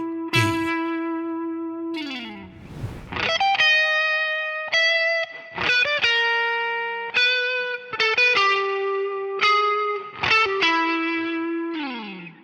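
A distorted electric guitar plays a slow blues lick, single sustained notes with bends and slides, separated by short pauses, clean and close.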